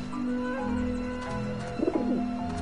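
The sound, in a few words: pigeons cooing in Grim Fandango Remastered video game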